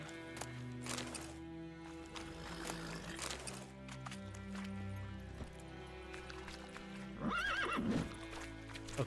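A horse in The Witcher 3 gallops with rapid hoofbeats and then neighs loudly near the end, layered over game music.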